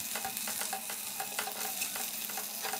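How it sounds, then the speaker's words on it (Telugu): Ginger garlic paste fries in oil in a pan for a mushroom biryani, with a continuous sizzle broken by regular scraping stirs that sound close and fairly quiet. "ఇప్పుడు ఇందులో 1 స్పూన్ అల్లం వెల్లుల్లి పేస్ట్ని వేసి అది కూడా ఆయిల్లో బాగా ఫ్రై"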